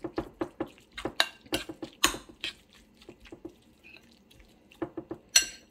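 A spoon mixing tuna salad with mayonnaise in a bowl, giving irregular wet clinks and taps that come in bursts with short pauses, close and fairly clear, with no voices.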